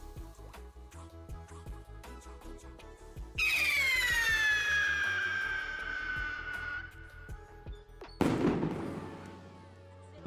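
A Vice Blinker firework goes off in a fireworks video game: a bright whistling shriek that slowly falls in pitch, followed by a sharp crackling burst, amid scattered small pops.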